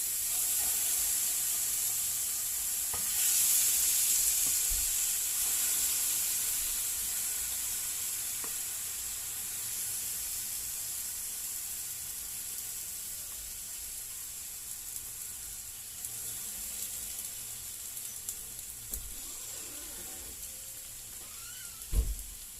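Marinated pork spare ribs sizzle in a heated pan, a loud steady hiss close to the pan, with a few light clinks and scrapes near the end.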